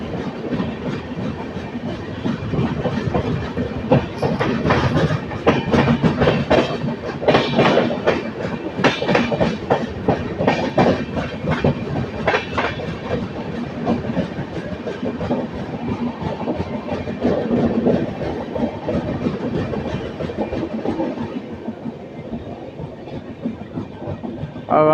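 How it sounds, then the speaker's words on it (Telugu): An express train bound toward Howrah runs along the tracks, its loud rhythmic clickety-clack of wheels over rail joints rolling on steadily and easing slightly near the end, with no speech. "ఏదో హౌడా వైపు వెళ్ళే ట్రైన్ అని మాత్రం తెలుసు"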